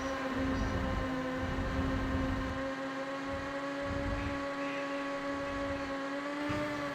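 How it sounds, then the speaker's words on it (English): Racing car engine in the video game Ridge Racer Type 4, a steady sustained whine with strong harmonics that hold nearly level throughout, loud and continuous with a pulsing low rumble beneath. "I can hear the engine from here."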